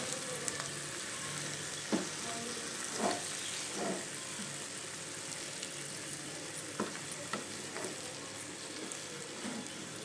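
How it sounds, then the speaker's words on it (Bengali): Chicken cooks in a pan as tomato and sour yogurt are stirred in, producing a quiet, steady sizzle broken by several distinct scraping stirs of a spatula at irregular intervals. "টমেটো দিলাম, এবার একটু টক দইও দেবো। এবার সব কিছু মেশাবো আমি।"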